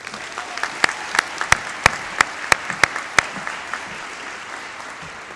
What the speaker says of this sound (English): I invite Leticia Lacerda, our valedictorian, to join me at the podium while we recognize her with our applause